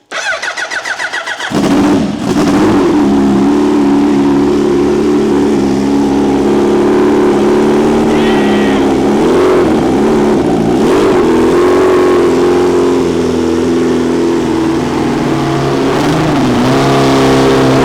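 A turbocharged Suzuki Hayabusa motorcycle engine cranks, catches and then runs continuously, loud and close, with an uneven idle and rising and falling revs throughout.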